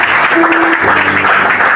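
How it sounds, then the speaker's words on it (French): An audience at a church conference applauds with loud, dense, continuous clapping close by, and a brief voice rises over it. "Acclamez encore pour les Seigneurs."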